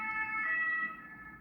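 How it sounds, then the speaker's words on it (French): A wailing ambulance-style emergency siren passes nearby, its steady rising and falling tones loud at first and then slowly fading as it moves away, with no voices over it. "On va laisser passer la sirène."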